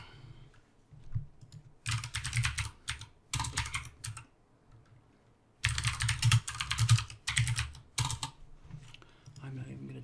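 Bursts of rapid keyboard typing, clicking keys in quick runs separated by pauses, close and clear with a low background hum.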